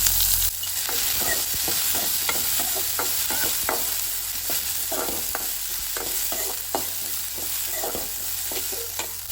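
Chopped onion, curry leaves and green chili fry in hot oil with a steady broadband sizzle, punctuated by close, repeated scrapes and taps of a spoon stirring the pan, no voices.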